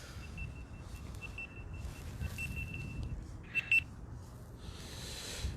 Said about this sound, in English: I got an alarm going off